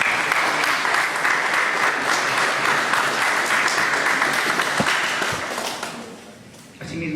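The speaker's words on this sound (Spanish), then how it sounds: "Estamos brindándole nuevamente un fuerte y merecido aplauso." Sustained applause from a seated audience at a formal event, steady and full for most of the stretch before thinning out near the end, with a brief swell of clapping resuming at the close.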